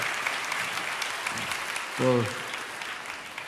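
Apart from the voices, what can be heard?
audience applause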